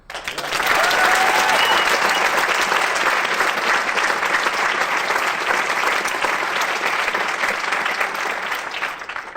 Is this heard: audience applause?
yes